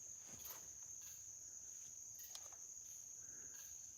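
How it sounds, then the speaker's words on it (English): Crickets chirp through the night in the Green Swamp of Central Florida, a thin, steady high-pitched trill held throughout with a few soft rustles, faint and quiet in the dark, no voices. "there's definitely some crickets chirping"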